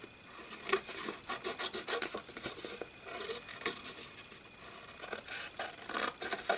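Scissors cut freely around a paper figure for a creative journal, a close, quiet run of rasping snips and paper rustles in an irregular rhythm.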